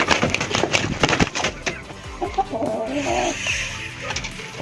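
Young Mangon chickens, about five months old, clucking together in a farm coop, a busy overlapping chorus of close clucks and short calls with rustling underneath.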